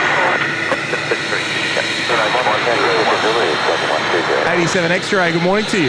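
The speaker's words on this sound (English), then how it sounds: "Lovely Phenom just moving past with purpose on taxiway Charlie." A jet-engine roar fills the air at Sydney Airport as an Embraer Phenom taxis past on the taxiway, loud and continuous, with radio chatter and talk over it.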